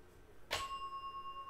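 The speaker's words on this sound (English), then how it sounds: "Accidental bell ring there." A single bell is struck once by accident during a baseball card break, a sharp near strike followed by a clear ringing tone that slowly fades with a gentle wavering pulse.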